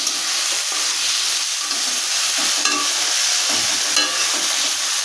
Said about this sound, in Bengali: একটু নাড়াচাড়া করে একটু জল দিয়ে দেবো।